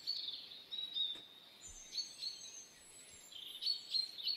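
Birdsong from a forest ambience track playing during a game session: repeated high chirps and trills in clustered bursts, with steady faint background hiss and no talk.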